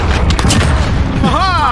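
Loud, close gunfire and booming explosions from the video game Modern Warfare, with several heavy blasts packed into a second and a half, followed by a rising and falling whine.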